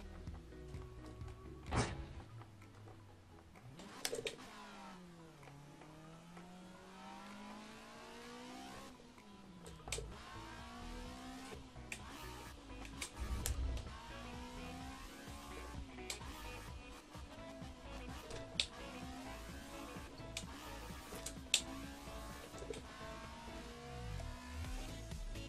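A Honda FD6 engine in Assetto Corsa revs and climbs through the gears on a mountain road, with rising and falling engine tones, repeated upshifts and a few sharp thunks, heard steadily across the clip without talk.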